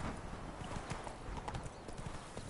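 Horse hooves clip-clopping in a trotting rhythm in the video game The Witcher 3, a quick, regular series of soft hoof strikes, fairly faint, with no clear speech.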